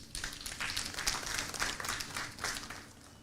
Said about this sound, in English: I think you also deserve a round of applause.